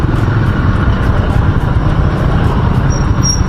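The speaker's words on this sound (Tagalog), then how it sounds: "Medyo traffic dito sa may mga bandang Caloocan." Steady road traffic near Caloocan, Philippines, heard from a moving motorcycle: a continuous loud rumble of car, bus and motorbike engines with road roar, no clear pauses, close and dense throughout.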